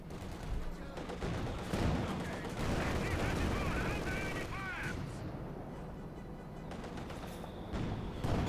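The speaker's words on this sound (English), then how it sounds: "Cons being hammered here with the mortar." Mortar rounds fall on conscript infantry in the Company of Heroes 2 strategy game, dense overlapping blasts and gunfire thundering through the stretch amid busy battle sounds.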